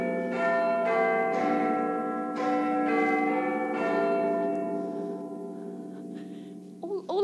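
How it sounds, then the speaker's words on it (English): Church bells ring out in a rich, overlapping peal, several strikes blending and slowly fading, with a brief voice-like sound at the very end. "All I can hear are some bells."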